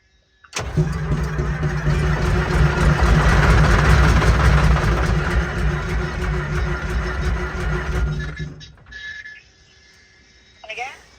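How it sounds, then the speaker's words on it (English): The world's largest fire engine cranks over, its starter whirring loudly and steadily for about seven seconds without catching before cutting off, followed by a quiet pause and a short burst at the end. "Give her a crank, Tay."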